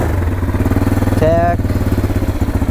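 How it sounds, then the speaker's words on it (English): 2006 Bombardier DS650X ATV engine just started and running, a loud, close, steady chugging idle with a fast throbbing pulse, while a person speaks briefly over it. "Fires right up."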